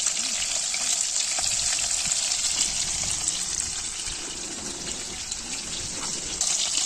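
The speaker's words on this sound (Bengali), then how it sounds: "এই যে মাছ ভাজা চলছে।" Fish frying in oil at a forest car campsite, a steady, dense, loud hiss of sizzling that runs unbroken throughout with no talk.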